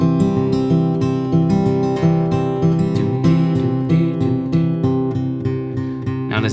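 Acoustic guitar picks a steady indie folk pattern with an alternating bass line, notes ringing in a continuous rhythmic flow, close and clear with no talking.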